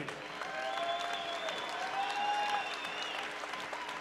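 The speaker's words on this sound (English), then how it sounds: "one more round of applause for a great fight" Crowd applause at a women's 105-pound amateur fight night, steady clapping filling the space for several seconds, with a voice and a rising tonal sweep heard faintly over it.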